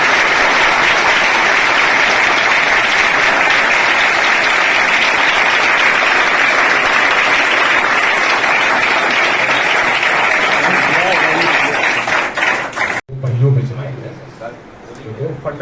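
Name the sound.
applause for the guest at a school event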